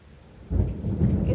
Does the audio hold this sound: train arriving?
no